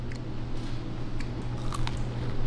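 A crunchy bite of food dipped in ranch gives sharp, close crunching and chewing crackles over a steady low hum, with no talk.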